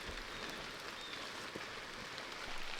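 Rain falling in a New Hampshire forest in autumn, a soft, even hiss of drops that stays steady and unbroken throughout, with no voices.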